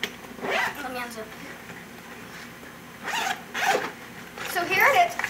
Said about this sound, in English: Let me unzip.